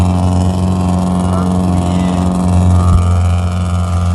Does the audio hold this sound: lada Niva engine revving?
yes